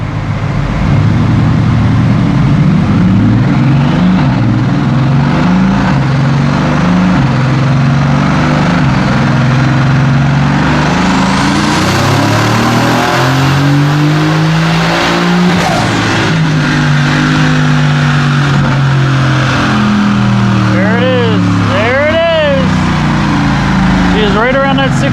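A tuned Mercedes-AMG GT S twin-turbo V8 strapped to a dyno roars loudly through a sustained pull, its pitch sweeping upward and then back down, followed by crackles near the end while people talk over it.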